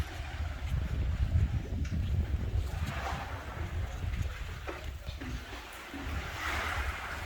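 Waves wash and rumble continuously at a cove in Çeşme, with gusty wind noise over them, broad and steady without any clear speech.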